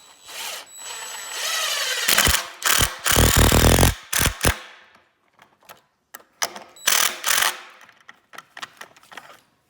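A drill driver whirs in several short, loud bursts close by, driving screws into a chicken tractor's wall, with brief pauses and light clicks between runs.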